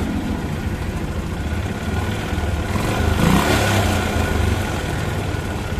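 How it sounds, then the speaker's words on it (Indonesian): A Yamaha Jupiter MX motorcycle engine running at a steady idle, loud and close, with a brief rise in revs partway through, alone without talk. "Ini motor bisa hidup ya"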